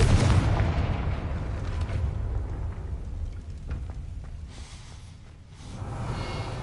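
A Confringo blasting spell explodes in Hogwarts Legacy, a loud, rumbling burst that decays into a long, noisy wash of debris and low boom, swelling again near the end.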